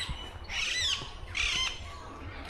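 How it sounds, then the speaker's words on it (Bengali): A parakeet perched in a tree overhead gives two harsh, shrill squawks about a second apart, clear against a quiet outdoor backdrop in the Maithon countryside, with no talking. "ওপরেই কিন্তু আমাদের মাথার উপরেই একটা টিয়া পাখি বসে আছে"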